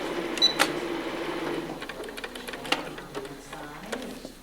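A sewing machine stitches a pillowcase with a light rapid mechanical whirr and ticking needle clicks, moderately close, with a few sharper clacks along the way.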